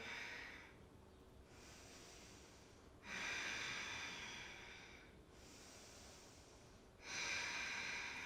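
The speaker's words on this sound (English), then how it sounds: "So here we can clearly hear ourselves breathing." Slow, deep yoga breaths drawn through a constricted throat, each with a soft hissing rasp, alternating inhale and exhale in a calm, even rhythm, close and quiet.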